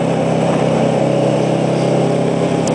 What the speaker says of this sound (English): These little trucks here, they're like the majority of Taiwan's shipping and trading inland is done on these like mini semis